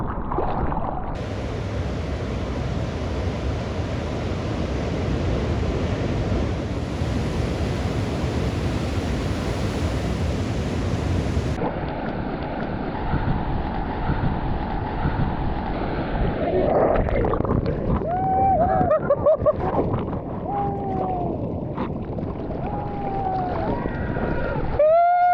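Ocean waves rumble and wash continuously while surfing heavy swell, a dense broadband roar of surf and rushing water with shifting intensity, and faint whistly tonal sounds appearing toward the end; no talking.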